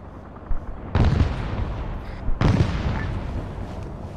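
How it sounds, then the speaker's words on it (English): Two heavy booming launches of rocket artillery in Arma 3, at about one and two and a half seconds, each a broadband roar that lingers and rumbles off, over a steady low background. "we're seeing repeat fire from those rocket artillery on the hill"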